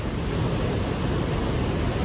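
A distant waterfall roars beside a cliff edge, a dense, continuous rush of falling water with a steady broadband wash and no pauses.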